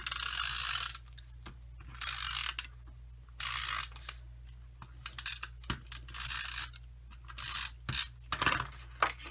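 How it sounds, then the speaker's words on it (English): Papercraft adhesive is rolled from a snail tape runner onto a card piece, giving several short, close ratcheting clicks and rasps in bursts separated by quiet pauses. "I'm going to snail this piece to my pink powder mat."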